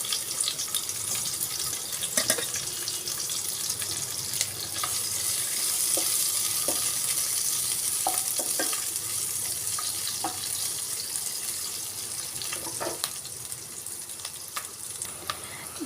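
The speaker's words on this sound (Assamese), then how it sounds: "এতিয়া মই এইখিনি কেপচিকাম অকণমান ভাজি লৈছোঁ প্ৰথমতে।" Chopped capsicum pieces fry in hot oil in an Indian kitchen, a steady, moderately loud sizzle broken by scattered sharp pops and crackles throughout, with no talking.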